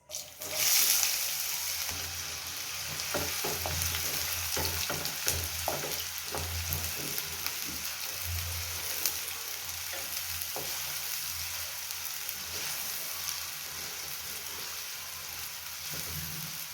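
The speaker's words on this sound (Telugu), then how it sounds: "ఆయిల్ వేడైంది మూడు లవంగాలు ఒక కప్పు తరిగి పెట్టుకున్న ఉల్లిపాయ ముక్కలు" Chopped onions and three cloves frying in hot oil, a steady loud sizzle like rain on a surface with occasional stirring scrapes, close and continuous with no talk.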